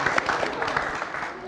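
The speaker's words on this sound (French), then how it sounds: "Merci de l'applaudir." An audience on a television variety show applauds in a steady wash of clapping, with a voice talking over it.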